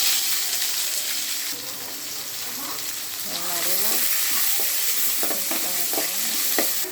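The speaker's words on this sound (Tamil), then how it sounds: "ஆனியனு கேரட்டு கேப்சிகம் பீன்ஸு முட்டைக்கோஸ் இருந்தால் முட்டைக்கோஸ் சேர்த்துக்கலாம் வாங்க இப்போ ஆட் பண்ணிடலாம்" Onion, carrot, capsicum, beans and cabbage sizzle in a hot pan for butter paneer noodles while being stirred, a steady close frying hiss with scraping stir strokes, and a voice talks over it.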